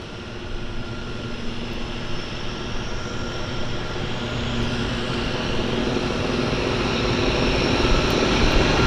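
A de Havilland Twin Otter propeller plane at a harbour airport gives off a steady, loud engine drone that builds slightly over time, with no voices over it.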